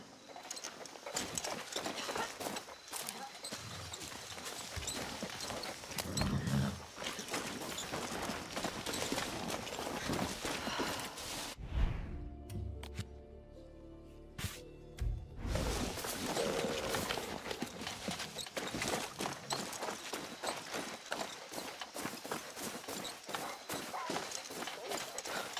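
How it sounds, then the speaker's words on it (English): A horse gallops in the video game Far Cry 6, rapid rhythmic hoofbeats running nearly throughout with a brief pause midway, under game music and voices talking. "That's Run! A good horse."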